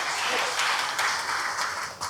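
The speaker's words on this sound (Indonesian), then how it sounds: "Tepuk tangan untuk Kabupaten Banyumas." A crowd at a Central Java provincial government training event gives steady, continuous applause for Banyumas Regency, a dense wash of clapping throughout.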